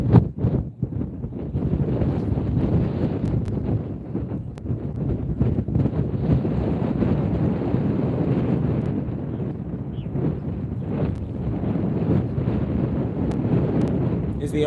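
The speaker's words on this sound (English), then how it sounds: "It's very windy, but hopefully my windsock is performing well." Strong wind gusting across a pier batters the microphone, giving a steady, loud, low rumbling roar that buffets continuously throughout with no voices.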